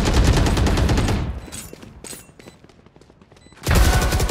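Rapid bursts of gunfire in the tactical shooter Valorant, loud volleys at the start, sparser distant shots in the middle, then another heavy burst at the end.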